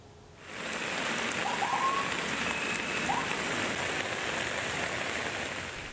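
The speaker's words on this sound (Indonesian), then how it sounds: "Hujan deras disertai angin kencang yang melanda ibu kota Jakarta" Heavy rain with strong wind lashing Jakarta, a dense steady roar of downpour that rises in after a brief quiet start and stays loud and continuous throughout, with no voices.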